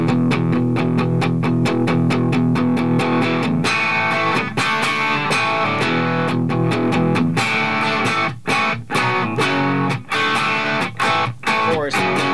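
Distorted electric guitar chugs through the chord part of an 80s hit, with steady, loud, rhythmic palm-muted strums and chord hits played alone.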